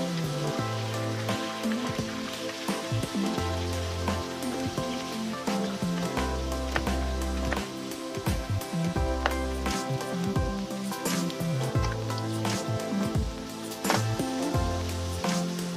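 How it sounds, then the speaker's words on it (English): Baby taro frying in oil, seasoned with salt and mixed herbs, gives off a faint, steady crackling sizzle with scattered pops, heard quietly beneath a soft tonal background. "Turn from time to time to evenly fry on all sides"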